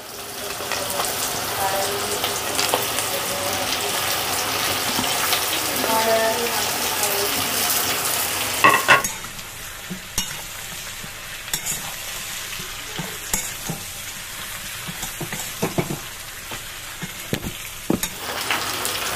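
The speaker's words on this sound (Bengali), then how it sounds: "এবার যে চিকেনগুলো আমি ভেজেছিলাম সেগুলো এক এক করে দিয়ে দেবো।" Fried chicken pieces are dropped one by one into a hot pan of oil for garlic chilli chicken, giving a loud, dense sizzle that cuts sharply quieter partway through, followed by scattered crackles and stirring clinks.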